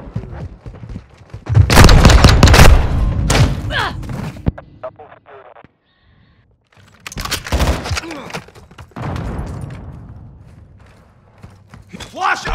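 Flash grenade blast and bursts of gunfire during a Call of Duty: Modern Warfare II match, loud booming shots clustered in two heavy volleys separated by a near-silent gap, with a voice talking over the action.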